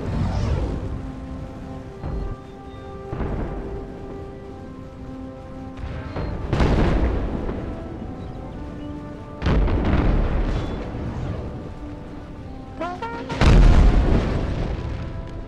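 Artillery booms in Napoleon Total War's American Civil War mod, several heavy, deep blasts spaced a few seconds apart with rumbling tails and lighter pops between them.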